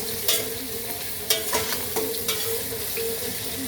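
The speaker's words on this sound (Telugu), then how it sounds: "ముక్కలు వేగుతున్నాయి, చూసారా? వేగుతున్నాయి." Vegetable pieces for a veg biryani fry and sizzle in a pan, with steady crackling, a few sharper clinks and stirring scrapes, close and fairly loud, with no one talking.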